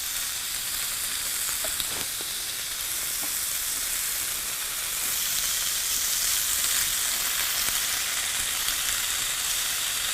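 Bacon fries in a pan with a steady, dense sizzle and crackle that fills the whole stretch at a fairly loud, constant level, with occasional small pops and no talking.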